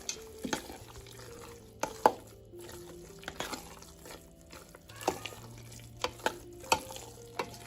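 Intermittent scraping and clinking of a spoon stirring tomato pulp with salt in a pot, with a faint sizzle beneath and occasional sharp knocks against the rim.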